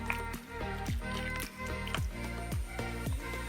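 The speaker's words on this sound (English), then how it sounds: "Start stirring." Corn flour is stirred into a liquid mixture, giving a rhythmic series of close, wet squishing strokes at a steady pace.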